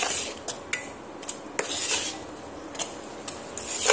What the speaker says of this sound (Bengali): এইভাবে নাড়তে হবে, নাড়া বন্ধ দিলে চলবে না